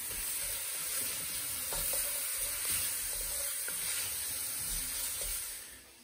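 Shallots sweating in a pan over low heat, a steady soft sizzle and hiss with faint stirring scrapes, close and unbroken with no talk.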